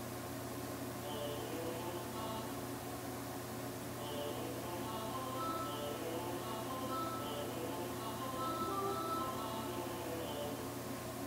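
A 61-key electronic keyboard plays a tune as soft, sustained melodic tones, held notes shifting slowly over a constant faint background hiss, with no voices.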